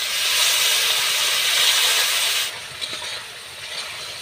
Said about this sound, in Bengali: অল্প একটু জল দিয়ে মশলাটা কষিয়ে দেবো যাতে পুড়িয়ে না যায়